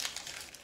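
A Pokemon Lost Thunder booster pack being handled, with close, continuous crinkling of foil wrapper in short rustling bursts, quiet and without talk.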